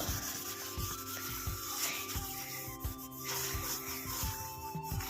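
A fibre scrubber is rubbed lightly over a surface being cleaned with lemon, making steady, repeated back-and-forth scratchy strokes, close by with no voices.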